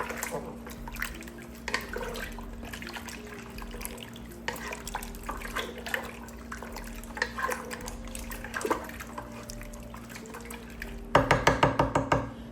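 Liquid sloshing as chicken noodle soup with bouillon, oregano, onion and garlic powder is stirred in a pot, soft watery swirls and clinks building to a quick series of louder splashes at the end.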